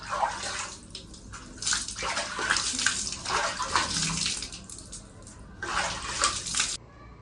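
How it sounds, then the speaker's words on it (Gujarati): Water from a tap splashes and runs while someone washes their face, loud and close, in uneven bursts that pause briefly and resume, with no talking. "તો મોઢું ધોવા આવી છું"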